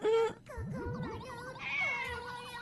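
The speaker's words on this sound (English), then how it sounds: "Oh no, the cats." Cats meow repeatedly in a quick run of rising and falling calls, close and clear, with a brief higher cry near the end and no talk over them.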